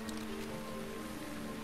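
Rain falling in Zelda Breath of the Wild, a dense steady hiss of drops mixed with a low game tone, fairly loud and continuous with no voices.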